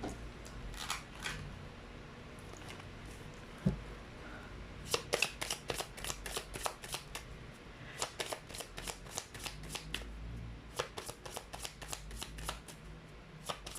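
Tarot cards are shuffled by hand up close, a soft rustle giving way to quick clusters of crisp riffling snaps that come in several bursts, with no talking.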